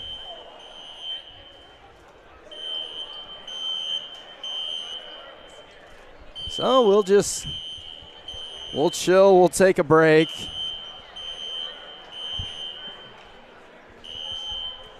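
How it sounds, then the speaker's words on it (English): A fire alarm keeps ringing inside a college basketball gym during a men's game, a steady high electronic tone holding through the whole stretch, with people talking loudly over it in the middle. "Whatever the process is, it must take a while because this alarm is still going off."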